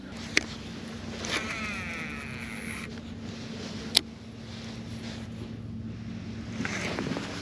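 Brisk northeast wind buffets the microphone outdoors on the water, a steady rushing roar with a low hum underneath and a couple of faint clicks.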